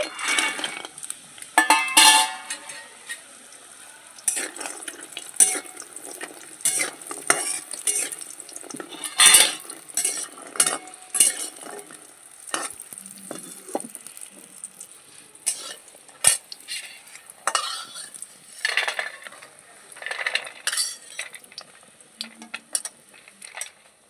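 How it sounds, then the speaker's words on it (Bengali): Bori lentil dumplings frying in a kadhai: close sizzling oil with frequent metal spatula scrapes and clinks against the pan, irregular and busy throughout, with no talking. "বড়িগুলো ভেজে নিচ্ছি।"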